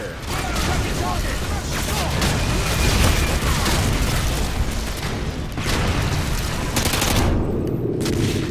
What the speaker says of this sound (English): That was a mortar that hit me